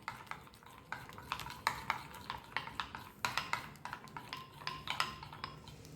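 Batter for dudh gokul pitha stirred in a bowl, a steady run of close scraping, knocking strokes of a spoon against the sides, with no talking.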